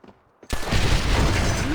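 A red box explodes after being shot in Red Dead Redemption, a sudden loud blast that bursts in after a couple of faint clicks and rumbles on in a dense, roaring wash of debris and crackle.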